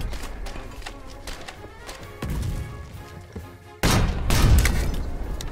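Artillery fires in a video game as a couple of deep booms, the second louder with a heavy rumbling tail, over a low, steady background.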